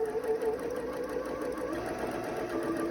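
Sewing machine stitching fabric for a triple-pleated face mask, a continuous close mechanical hum and rapid needle rattle with no pauses.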